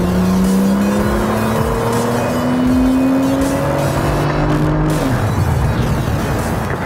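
A Porsche 991 Turbo accelerating hard on a race track, its engine note rising steadily through the revs, loud and close, with a gear change and tire noise and no talking.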